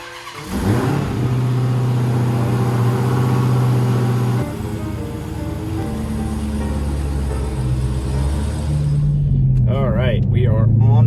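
A Dodge Challenger Hellcat on badly worn bald rear tires rolls slowly on the road, its engine giving a steady low rumble with a brief rise in revs, while someone talks over it throughout.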